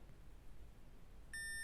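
A Land Rover Freelander key fob programmer emits a clear electronic beep near the end, sounding alone over a quiet background.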